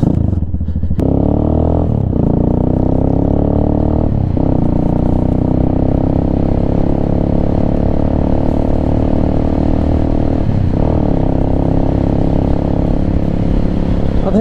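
A Venom Ghost Chopper 250 motorcycle is ridden, with a loud, steady engine drone and shifts in pitch as it accelerates and changes gear, close and continuous throughout with wind noise.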